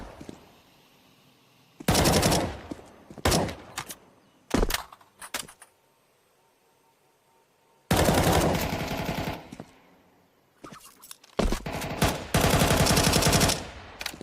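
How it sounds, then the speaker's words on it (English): Bursts of rapid automatic gunfire from a Counter-Strike esports match crackle in loud clusters, some long sustained volleys and some short sharp strings, separated by quieter stretches of low ambient game sound. "Just a war of bullets in Banana, in which none are really connecting"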